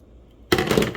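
Scissors snip through yarn doll hair for a Valentine's Day craft, a sudden close crisp crunch of shearing that starts midway after quiet and lasts about half a second.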